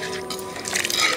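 Water streams into a pan of rice flour to make a thin dough for Mangalore-style sponge dosa, a close, continuous liquid splash and trickle growing slightly louder and more turbulent, with no talking.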